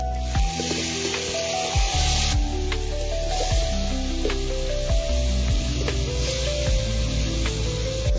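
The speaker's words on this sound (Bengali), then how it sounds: "এবার মশলাটা কষাবো অল্প একটু জল দেবো যাতে মশলাটা পড়ে না যায়" A spice masala with whole garlic cooks in a pan with a splash of water for a village-style chicken curry, a loud continuous sizzle and hiss with bubbling spatter throughout.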